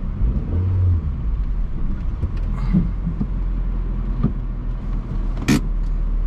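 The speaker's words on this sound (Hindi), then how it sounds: "गाड़ी तो बैक कर रहा अभी तो मैं" A car idles and rumbles in reverse, a low steady engine drone close by with a few faint knocks and one sharp clatter near the end, and no voices.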